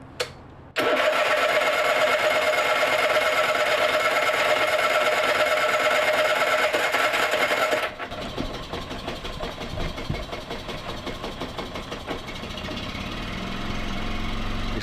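A boat engine on an ocean-going boat starts up and settles into a steady, loud idle with a sustained tonal hum, then shifts to a rougher, lower idle partway through, with no talking.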